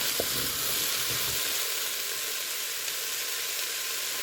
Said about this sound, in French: Les échalotes qui cuisent, c'est vraiment la base.